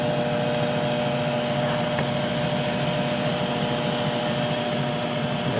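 Treadmill motor driving a converted Harbor Freight lathe, a steady whirring hum with a constant mechanical drone and faint higher whine, continuous and even at moderate level without talk.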